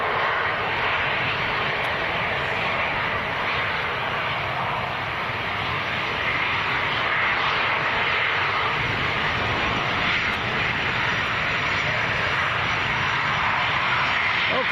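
Jet2 Boeing 737-300 airliner at Leeds Bradford Airport, a loud continuous jet engine roar with broadband rush that holds steady the whole time, no voices.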